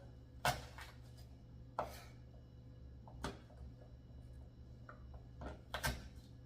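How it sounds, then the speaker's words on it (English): Vegetables being chopped on a cutting board while making hummus, a few sharp knife strikes spaced irregularly over a quiet kitchen hum, close and fairly soft. "we're going to chop up this other set"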